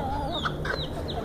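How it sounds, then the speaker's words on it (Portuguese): Chickens and roosters cluck close by in a farmyard, several short overlapping calls rising over a steady low background, with no talking. "Um monte de galo em cima de mim."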